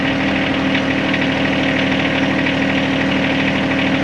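A John Deere 1025R compact tractor engine idles steadily nearby, a loud, even mechanical drone with a faint knocking pulse and vibration running unchanged throughout, with no talking.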